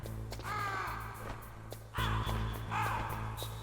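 Crows caw repeatedly in a video game, with several harsh, descending calls arriving in bursts, loud and close over a steady low game hum.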